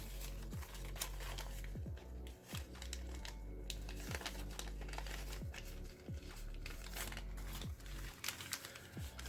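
Paper being mountain folded and creased for an origami tiger, a steady run of close, dry crinkles and soft taps with a few sharper crackles, no talk.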